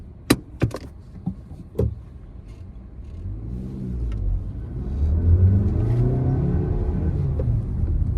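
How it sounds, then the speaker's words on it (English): A 2022 Maruti Baleno's engine is revved after a few sharp clicks, rising into a loud, sustained mid-pitched rumble that holds steady at high revs. "Let's rev the engine first."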